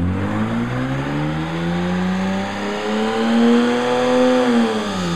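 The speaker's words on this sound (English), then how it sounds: "At the moment, we don't have too much traction because it only spins one wheel." A 1998 Ford EL Falcon revs steadily with one rear wheel spinning for lack of traction, a loud continuous engine drone whose pitch climbs gradually and then drops back near the end.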